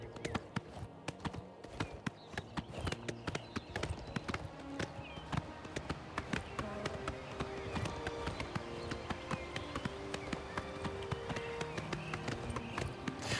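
Horse hooves clip-clop at a steady running gait while riding in the video game Oblivion Remastered, a dense, continuous patter of close, even hoofbeats with no talk over them.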